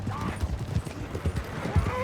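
A horse trots in Red Dead Redemption 2 on PS5, its hooves clip-clopping in a steady, even rhythm of about two beats per second over a bed of game ambience.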